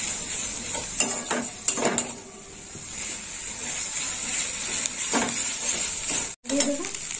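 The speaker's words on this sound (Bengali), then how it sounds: "মশলাটা একটু ভালো করে কষে নেবো।" Ginger-garlic paste masala stir-fried in a kadai for a prawn and vegetable dish, a steady close sizzle with scraping spatula strokes against the pan throughout.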